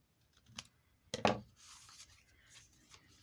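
Scissors snip the corners of a paper craft tag up close, with one light cut followed by a louder crisp double snip, then soft rustling of the paper. Nobody speaks.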